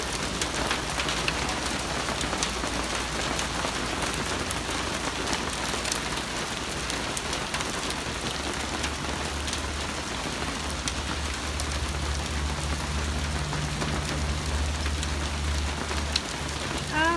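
Dense, steady pattering of hail striking a car window in Los Angeles, continuous and close, with a low rumble underneath.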